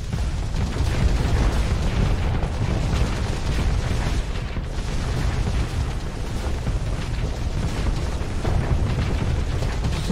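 Missiles explode during a space battle in the video game Starsector, a dense, continuous rumble of booms and blasts layered over one another with no pauses.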